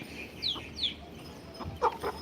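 A few soft, short chirpy clucks from a native-breed hen over a faint outdoor background, with a slightly louder burst of clucking near the end.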